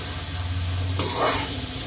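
Onions stirred and fried in a pan give a close, continuous sizzle, with a stirring scrape swelling briefly midway.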